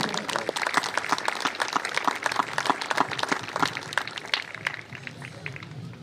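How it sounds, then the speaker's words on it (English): Applause from a parade audience honouring cadets at an Independence Day ceremony, a dense, steady crackle of many hands clapping that holds through the whole span and eases slightly at the end. "Let's give them a round of applause."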